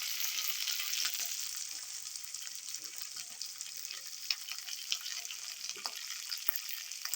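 Peas, beans and carrots fry in hot oil for rava khichadi, a steady close sizzle with occasional stirring scrapes and clinks. No voices are heard.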